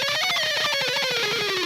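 A fast electric guitar speed exercise played an octave up the fretboard: a dense, continuous run of rapid notes, steady and loud throughout with no pauses.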